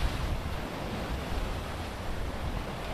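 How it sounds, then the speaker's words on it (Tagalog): Strong ocean waves surge onto White Beach in Boracay, a steady, dense roar of surf blended with wind noise, with no voices. "Sobrang alon."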